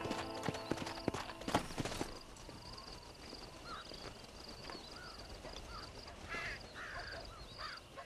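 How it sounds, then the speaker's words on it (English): Hooves clip-clop steadily at a walking pace, up close, then fade, while crows caw in the background, as a horse walks in the video game Red Dead Redemption. "walk the horse up to the front gate here."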